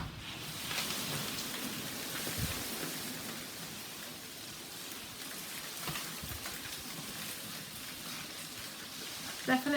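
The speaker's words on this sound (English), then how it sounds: "Definitely a hailstorm." Hailstorm heard through an open door: a steady, dense hiss of hail and rain pelting outside, broadband and continuous, with a few louder bursts of impacts and faint voices in the background.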